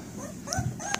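A puppy whimpers and yips in a few short, high-pitched bursts, close by, with a brief sharper yelp near the end.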